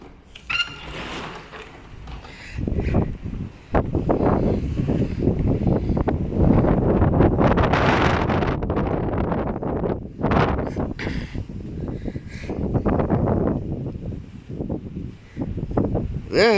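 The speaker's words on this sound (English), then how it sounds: "That is high wind, really high wind." Strong storm wind in Luderitz battering the microphone in loud, uneven gusts and roaring buffets throughout, with rustling and no clear talk.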